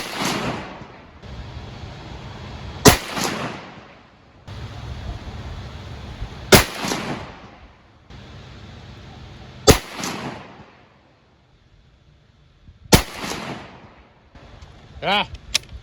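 Four sharp, loud rifle shots from a .223 firing Hornady 75-grain BTHP handloads at an outdoor range, spaced a few seconds apart, each with a sharp crack and a decaying echo over steady background noise.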